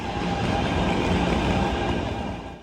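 A Taoyuan Airport Metro train in Taipei runs at steady speed, its broadband rumble and rail noise continuous and close, easing off slightly at the end, with no voices.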